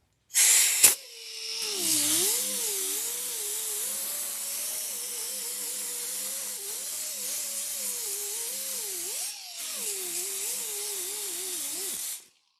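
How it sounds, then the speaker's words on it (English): Small electric sander working on a zinc boat anode, a steady high whine with gritty hiss, pitch wavering as pressure changes against the metal, with a brief dip near the end, close and loud. "So I'm just going to use my little sander here because it's fast."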